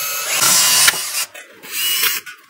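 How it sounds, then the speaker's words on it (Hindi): An electric drill bores a 4 mm hole in a workpiece for a homemade car wash pump, with a loud whirring motor that bites and grinds, briefly stops, then runs again close by. "ड्रिल की मदद से मैं 4 mm का होल कर लेता हूँ।"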